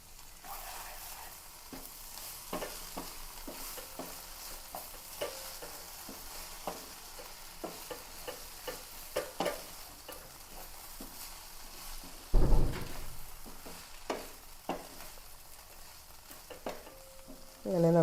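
Okra stir-frying in a pan with crushed pepper, a steady sizzle broken by repeated scraping and stirring clicks from a utensil, with one louder clatter partway through; no one speaks.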